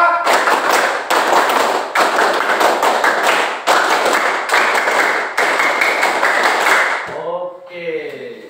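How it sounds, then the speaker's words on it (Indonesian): A class of schoolchildren performs rhythmic Pramuka scout clapping, two rounds of loud, patterned claps in unison that end abruptly, followed by a voice speaking briefly. "Coba 2 kali tepuk pramuka"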